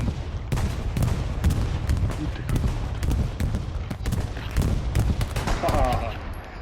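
Aircraft strafing-run gunfire in the World War II shooter Hell Let Loose: rapid bursts of loud, sharp shots and booms tumbling over one another, with distant rumble and occasional voices beneath.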